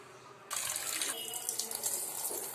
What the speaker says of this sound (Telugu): ఇవి వాష్ చేసుకుందామండి.